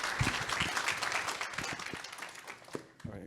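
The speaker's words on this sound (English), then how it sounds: "Let's give a round of applause." Audience at a low-carbon energy innovation forum claps for a few seconds, a moderately loud, fairly thin round of applause with scattered individual claps and a brief voice near the end.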